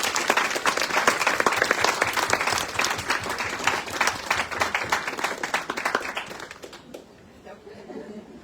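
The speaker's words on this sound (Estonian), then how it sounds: "aplaus" An audience at a book launch in Tallinn applauds in a dense, loud burst of clapping that fades after about seven seconds, leaving quiet room tone with faint voices.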